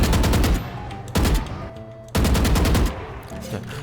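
Three close, loud bursts of fully automatic Phantom rifle fire in the shooter game Valorant, each rapid string lasting under a second and separated by brief pauses, with no talking.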